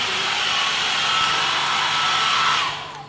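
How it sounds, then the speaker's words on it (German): Small travel hair dryer from a discount store blowing at full power, a loud, steady close-up whoosh with a faint whine that winds down and cuts off near the end. "mit so einem Föhn von einem Discount-Markt"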